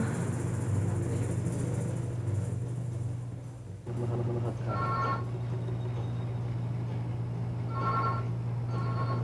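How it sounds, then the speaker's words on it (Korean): An electronic telephone ring sounds early in the morning in a remote area of the Philippines, two short bursts of warbling tones over a low, steady hum. "이른 아침 전화벨 소리에 잠이 깼지만"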